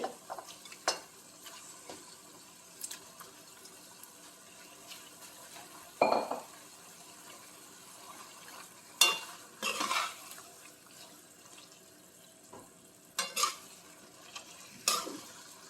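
Chicken and onions frying in a pan for a drumstick, potato and chicken gravy, a faint steady sizzle broken by scattered scrapes and clinks as a utensil stirs against the pan.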